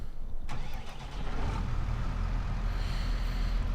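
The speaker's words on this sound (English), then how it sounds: "So I'm going to hop in the tractor and head out to the fields" A tractor engine in Farming Simulator 22 turns over and settles into a steady, loud low rumble, heard close up with no talk over it.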